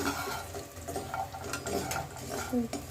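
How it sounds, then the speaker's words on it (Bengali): Lentil dumplings (bori) frying in oil in a wok, a soft, steady crackle with occasional scrapes and clinks of a stirring utensil against the pan, close by with no talking. "বড়িগুলো একটু লাল লাল করে ভেজে নেওয়া হবে।"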